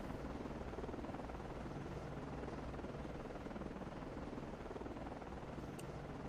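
Helicopters hovering in the submarine video game Cold Waters, a steady, faint rotor drone with even whirring that holds throughout.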